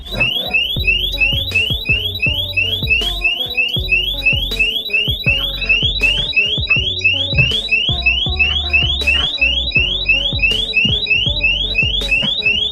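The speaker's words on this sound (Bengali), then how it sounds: "কিন্তু তখনই সজোরে অ্যালার্ম বাঁচতে শুরু করে" An alarm rings loudly and continuously, a rapid repeating electronic beep pattern sounding alone and steady throughout with no voices.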